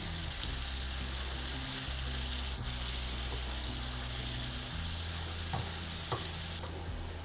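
Onions, tomatoes and salt sizzle steadily in a pan over low gas while being stirred, a continuous close frying hiss with a few soft spoon scrapes and knocks, no talking.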